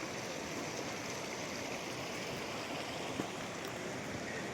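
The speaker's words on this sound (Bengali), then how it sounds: "তার মধ্যে দিয়ে এরকম বেরোচ্ছে, এখান থেকে খরস্রোতা হয়ে পড়ছে" The Jambu River runs swiftly through forest in Simlipal National Park, giving a dense, even rush of fast-flowing water that stays close and steady throughout with no speech.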